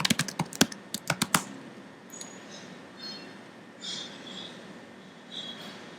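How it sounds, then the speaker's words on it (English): Login details being typed on a computer keyboard: a quick burst of sharp, close keystrokes in the first second or so, then near-silence with a few faint soft clicks. "And then we type in our login info."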